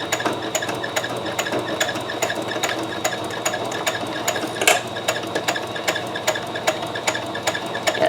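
A sewing machine runs steadily, stitching a French seam on a wheelchair pouch, with a fast even mechanical whir and regular clicks, close and alone without talk.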